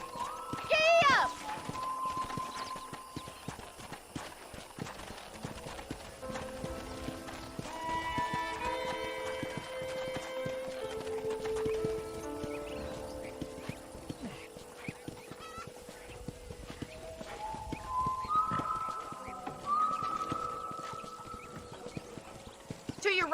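A horse gallops in the Western video game Red Dead Redemption, steady clip-clopping hoofbeats running throughout with occasional whinnies, while people talk over the ride.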